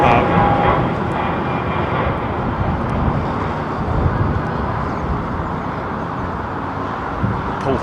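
A Boeing 737-200 jet airliner with old Pratt & Whitney engines at London Heathrow gives a steady, loud, broad engine roar that holds evenly throughout.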